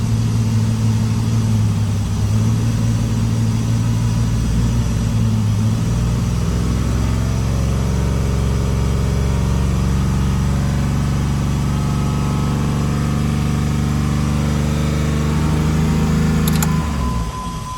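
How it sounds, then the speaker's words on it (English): A 2005 Jeep Liberty engine, running poorly after a timing fix, idles with a steady low rumble, its revs rising and falling slightly before climbing near the end; no voices. "Not sure why she's revving up"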